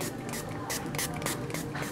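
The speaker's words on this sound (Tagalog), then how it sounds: "Kaya yun, spray na tayo." A spray bottle mists a white bedsheet in quick repeated pumps. The short hissing bursts come about every quarter second over a steady background hiss, with no voices.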